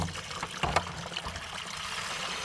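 Water trickles and pours steadily into a watering tank for a winter livestock watering system, a continuous splashing fill with a few louder gurgles early on.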